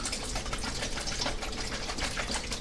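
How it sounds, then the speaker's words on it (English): Water sloshing inside a closed container about half full of filtered water as it is shaken, a steady continuous churning rush throughout. "And then close it up and give it a shake."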